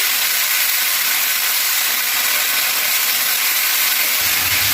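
Ginger, garlic, onion and chilli paste frying in hot oil for a bottle gourd dish, a loud, dense, continuous sizzling hiss filling the whole stretch, close up and without talk.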